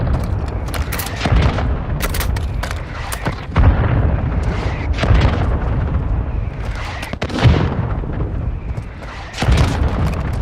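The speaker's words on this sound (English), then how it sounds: "Hostile mortar strike incoming." Mortar strike explosions in the mobile shooter Warzone Mobile, a string of heavy booms and sharp bursts loud and close, repeating irregularly over dense game noise.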